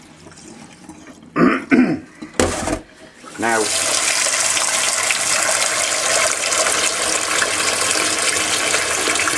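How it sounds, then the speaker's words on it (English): Cooked rice being drained in a pan for an Indian takeaway-style dish, with water gushing out in a steady, loud rush after a brief spoken word, a cough and some clatter near the start. "as you're getting rid of the water, give the pan a jiggle"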